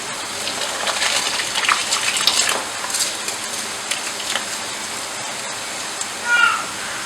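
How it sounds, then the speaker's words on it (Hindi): Rice tipped into a pot of boiling water, a close hissing, crackling rush of grains and bubbling that fades to a quieter simmer, with a brief louder splash near the end. "पानी अच्छे से बॉईल हो चुका है। अब मैं इसमें डालूँगी चावल।"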